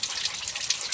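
Water pours steadily through a garden hose into a water butt at an allotment, a close, continuous rushing gush.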